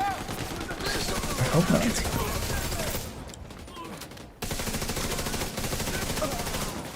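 Rapid automatic gunfire from an AK assault rifle in The Division, dense sustained bursts that stop briefly and then resume, with a person talking over part of it.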